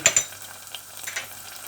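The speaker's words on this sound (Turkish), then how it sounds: "Salçamız kavrulmaya dursun" Tomato paste roasts in a pan for Bursa-style İskender, a soft steady sizzle with a couple of sharp scraping stirs near the start and low kitchen hum beneath, no voices.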